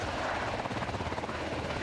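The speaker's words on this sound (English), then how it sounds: "The Coast Guard helicopter swoops in as part of a safety course for fishermen in New Bedford." A Coast Guard helicopter swoops low during a fishermen's safety course in New Bedford, its rotor throbbing loud, steady and close with a dense, rumbling wash throughout.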